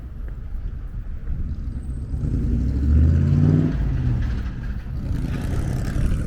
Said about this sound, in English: that pickup truck was cool